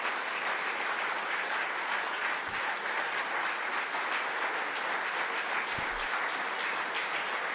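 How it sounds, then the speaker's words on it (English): Sustained crowd applause at a Tory leadership event fills the whole stretch, a thick, even roar of clapping from a large audience with no talk on top. "Robert Jenrick's wife thought she was done applauding."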